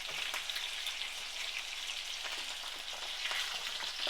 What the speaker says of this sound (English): it's not going to be crispy because we're sauteing it